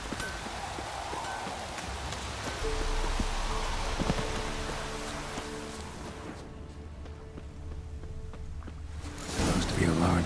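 A heavy downpour hisses steadily across the open landscape of the video game The Witcher 3, with a horse's hooves clopping beneath it and a voice speaking over the rain near the end.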